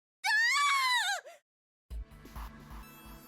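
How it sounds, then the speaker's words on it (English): In the video game Zero Escape: 999, a woman lets out one loud, shrill, wavering scream lasting about a second, followed by a pause and then faint background game music. "Her scream nearly blew out Junpei's eardrums."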